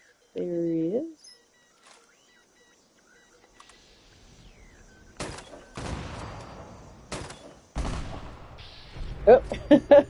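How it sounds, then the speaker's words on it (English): Explosions and gunfire erupt in a Fallout 76 Treasure Hunters event: a few heavy bursts and scattered shots arrive in uneven clusters, some sharp and close, others duller, with quieter gaps between them. "you got all this explosions going around"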